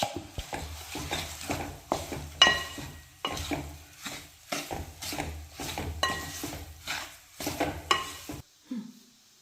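Ginger mango pickle with mustard seeds is stirred in a pan. A spoon repeatedly scrapes and clinks against the metal over a light sizzle, rhythmic and close, then it stops abruptly near the end.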